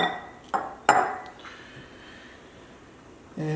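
Two medium kitchen bowls being set down and handled on a counter, giving a couple of sharp clinks and knocks early on, then a quiet stretch before another thud near the end.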